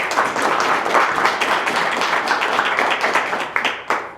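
An audience breaks into warm, dense applause to welcome author Jim Kahmann at a meet-the-author event, the clapping steady and full before tapering off near the end.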